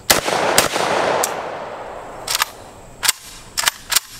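A Russian VEPR AK-47 rifle in 7.62x39 fires a string of loud, sharp single shots, two close together early and then several spaced and paired reports with short echoing tails.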